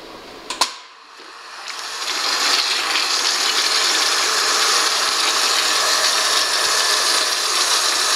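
A Nikuni microbubble generator pump starts up on clear water with a sharp click, then settles into a steady, loud broadband whirring hiss that runs unbroken to the end, with no talking.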